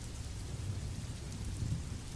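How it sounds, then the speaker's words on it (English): Downpour of pouring rain with rolling thunder, a thick steady roar of rainfall layered over deep low rumbles that swell slightly near the end, constant and loud with no talking. "It's pouring out there"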